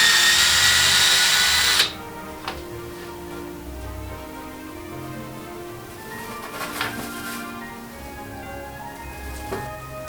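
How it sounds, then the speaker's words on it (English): A power drill drives a screw into the back of a wooden pinwheel decoration, a loud steady whir for about two seconds that cuts off abruptly, followed by quieter handling noises. "We're going to put a screw in the back and put a little wire loop on it."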